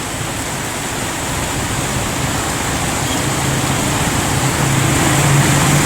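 Heavy rain pours down in Bangued, Abra, during a storm, a steady, dense roar of falling water that holds constant and swells slightly louder toward the end, with no voices.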